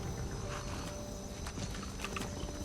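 Horse hooves clip-clop at a walking pace as a rider moves through Skyrim, a run of soft, regular hoof strikes over a quiet outdoor bed with no speech.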